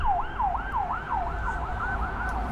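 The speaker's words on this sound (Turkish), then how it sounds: "Ambulans geçiyor." An ambulance siren wails in a rapid rising-and-falling yelp, loud and close, steady through the whole stretch with faint traffic noise beneath, beside Istanbul's busy Basın Ekspres road.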